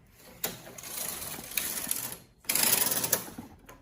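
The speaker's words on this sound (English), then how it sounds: "so we'll push them in and we can begin to knit." A Brother knitting machine knits a skip stitch pattern, the carriage giving two loud, close mechanical runs of rapid clattering and whirring separated by a short pause.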